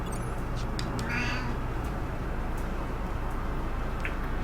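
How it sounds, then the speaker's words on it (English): A cat meows during Final Fantasy XI gameplay, one short cry heard over a constant low background drone and scattered faint clicks. "I think I heard a kitty."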